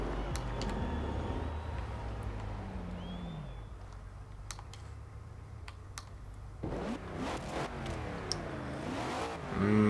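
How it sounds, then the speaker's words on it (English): The V8 engine of a 1963 Chevrolet Corvette C2 in Forza Horizon 2 hums and then revs up with rising, wavering pitch toward the end, with keyboard-like clicks scattered throughout; no voices. "That V8 sounds so good though."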